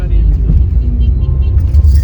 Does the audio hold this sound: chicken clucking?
no